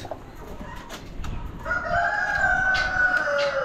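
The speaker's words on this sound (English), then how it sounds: "Looks like we got a bunch of barred rock roosters." Barred Rock roosters crow at a poultry auction, one long, loud cock-a-doodle-doo rising over a background of clucking and bird noise.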